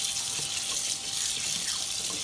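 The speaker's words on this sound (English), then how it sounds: "once the lukewarm water goes in there, it gets rid of all the bone fragments" Lukewarm tap water pours in a steady, close, continuous hiss as it rinses pieces of roast lamb to wash out bone fragments, with no voices over it.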